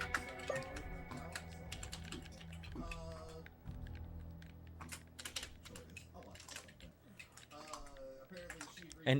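Rapid clicking keystrokes on a computer keyboard, someone typing during a Marvel Rivals match, running steadily under game music, effects and voices.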